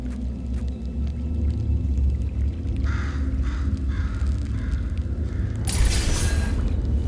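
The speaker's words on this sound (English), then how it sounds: "Where'd that bird go?" A bird caws several times in a row in the video game Portal 2, the harsh calls spaced evenly and ringing over a low mechanical rumble, followed by a louder rushing burst.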